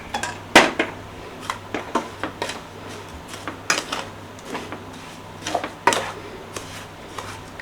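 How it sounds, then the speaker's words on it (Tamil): Rava laddu mixture being mixed with boiled milk in a metal vessel, giving a series of sharp spoon clinks and scrapes at an irregular pace, close and fairly loud. "ஒரு பக்கமாக ஊற்றி மிக்ஸ் பண்ணணும்"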